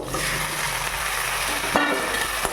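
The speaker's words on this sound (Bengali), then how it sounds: "ভাজবো মাংসটাকে" Chicken pieces sizzle in a pan over already-fried onions with a little sugar for a Bengali chicken curry: a loud, steady frying hiss with a couple of sharp utensil clacks from stirring, no talking.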